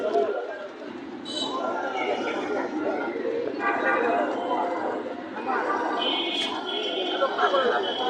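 Pigeons coo and flutter at a busy pigeon market in Bangladesh, soft repeated coos and chattering calls mixed with brief wing sounds, heard beneath steady nearby conversation from people haggling.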